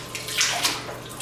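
Pump circulating water in an insulated cattle-trough hot tub with a filter, giving a steady close rushing and bubbling wash of water throughout, with no talk.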